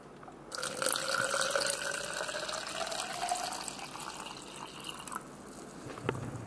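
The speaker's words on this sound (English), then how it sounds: "Damn, I just spilled some water on the phone." Water splashing and dripping onto a phone, a close, steady trickle for several seconds that then tapers off, with no talking.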